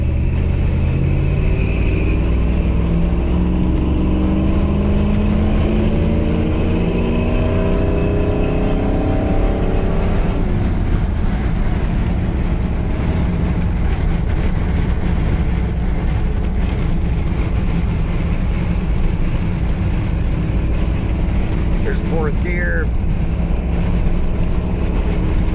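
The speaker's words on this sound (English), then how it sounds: "We'll just leave it in third gear and give it a good pull here." A Ford 460 V8 with EFI and a stage 3 cam revs and pulls hard in third gear, rising steadily in pitch as it accelerates, loud and continuous with droning road noise.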